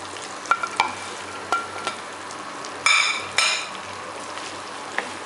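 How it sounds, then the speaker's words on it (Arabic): Bread being laid into melted butter with a spoonful of oil in a home kitchen pan, giving short scraping clatters and two brief bursts of sizzle over a quiet hiss, with no talk. "وهننزل عليها بالعيش اول ما تسيح"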